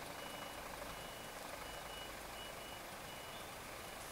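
A lorry reversing along a congested road on the Isle of Arran, its reversing beeper sounding continuously over engine rumble and broadband road noise, heard from a short distance.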